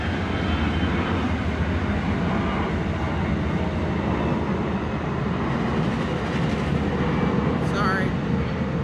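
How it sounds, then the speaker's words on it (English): A loud, steady rumble of a train rolling past mixes with the roar of an aircraft overhead, dense and continuous throughout. "We had a plane and a train come by."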